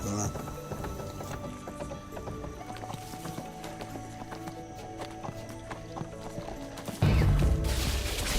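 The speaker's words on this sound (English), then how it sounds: "It's a really nice horse. Really nice horse." A horse mount in the video game Neverwinter clip-clops steadily and whinnies, while game sounds and a loud burst near the end play under a speaking voice.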